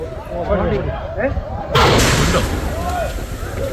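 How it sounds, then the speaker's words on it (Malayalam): A sharp, loud crack of a tranquilizer dart gun fired at a wild gaur cuts through outdoor noise, followed by a sustained broadband rumble, with voices murmuring in the background. "കാട്ടുപോത്തിനെ നിരീക്ഷണ വലയത്തിലാക്കി ആദ്യം മയക്കു വെടിവെച്ചു"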